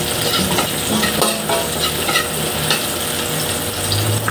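Onions and other ingredients for pansit sautéing in a pan, a dense continuous sizzle and crackle with a utensil stirring and scraping through it, close and steady.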